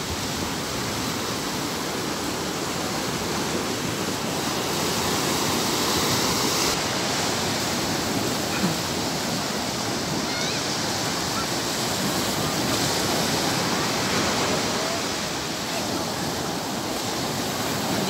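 Ocean surf at a Zambales surfing spot, a steady broad wash of breaking waves rolling continuously and loud throughout, with no talk.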